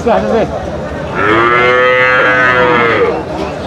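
A loud, close cow moo, long and drawn out, preceded by a shorter lowing call, with background noise of a busy cattle market at Aftabganj.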